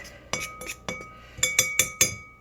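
A spoon clinks against a bowl while dry baking ingredients are stirred together, giving about eight sharp, irregular taps close by with no talking.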